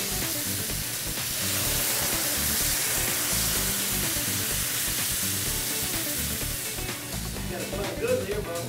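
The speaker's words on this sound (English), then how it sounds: "Now we're gonna add our shrimp stock." A pan sauce flavored with Lea & Perrins sizzles steadily as shrimp stock goes in, a dense continuous frying hiss with scattered small pops, close and fairly loud, with a voice talking over it at times.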